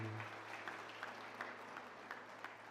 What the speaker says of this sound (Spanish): Dale un fuerte aplauso a Cristo y ponte de pie.